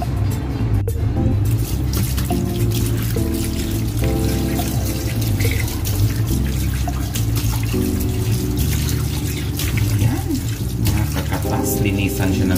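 Tap water runs continuously and loudly into a sink while fish is being washed, a dense, steady gush that lasts throughout, with other background sound mixed in.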